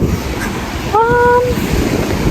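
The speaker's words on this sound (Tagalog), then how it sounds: "Malakas yung alon." Strong sea waves roar continuously and close by, with a brief voiced cry rising briefly above the surf.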